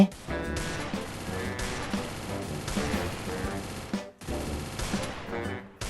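Rapid automatic gunfire in the mobile shooter Free Fire, dense bursts rattling almost continuously, with a brief pause about two-thirds through before the shooting resumes.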